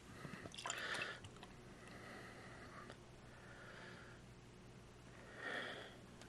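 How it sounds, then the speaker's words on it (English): A Sebago Runabout Red American amber ale is poured into a glass, giving faint, soft bursts of fizzing, splashing liquid that rise and fade twice over a quiet background. "let's give this a little pour"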